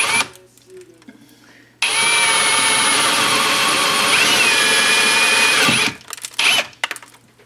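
A power drill whines steadily at high speed for about four seconds, starting abruptly and stopping, with quieter clunks and handling noises before and after.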